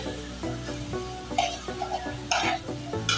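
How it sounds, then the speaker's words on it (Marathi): Cooked rice being stirred and tossed through veg fried rice in a hot pan, with a regular series of spatula scrapes and soft sizzling, close and fairly quiet. "छान वर खाली मिक्स करून घेऊया"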